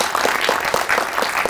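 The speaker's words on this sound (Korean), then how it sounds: "박수 부탁드리겠습니다." Audience applause at a press conference and media screening for an action noir film, a dense steady burst of many hands clapping at once, close and loud throughout with no voices.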